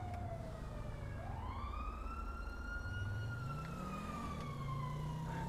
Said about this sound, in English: Those sirens, you can hear them so far away.